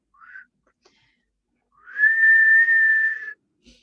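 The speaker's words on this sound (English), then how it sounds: "suddenly out came a real whistle" A person whistles a short rising note, then after a pause a long, steady, clear whistle held for over a second, alone in otherwise quiet surroundings.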